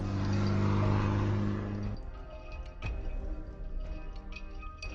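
A vehicle engine drones steadily in an animated Tamil story, first a loud sustained hum that drops in pitch and level, then a rougher, lower running sound with a few faint ticks.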